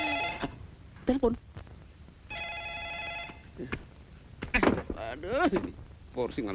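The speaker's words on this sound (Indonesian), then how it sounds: "Itu juga telepon berderang-derung" A telephone rings in bursts during an Indonesian comedy scene. Its bright, repeated ringing is heard under and between people talking.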